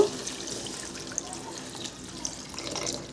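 Water poured from above into a pan of fried masala for papad curry, a steady close splashing pour lasting a few seconds, heard alone.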